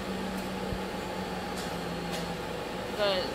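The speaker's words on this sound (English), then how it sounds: "right now the laser cutter is cutting the profile of the bag" A laser cutter cutting the profile of a fabric bag in a San Francisco bag workshop, a steady mechanical hum and whir with faint clicks, continuous and fairly quiet, with a short whine near the end.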